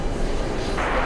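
JetBlue airliner landing at JFK airport, a steady broadband roar of jet engines that swells slightly near the end, continuous and fairly loud with no talk over it.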